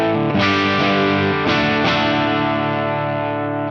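An electric guitar played through a Friedman IR-J Jake E Lee signature valve preamp pedal on channel 1, recorded straight into an audio interface, rings out as sustained distorted chords with a few re-struck accents, loud and alone.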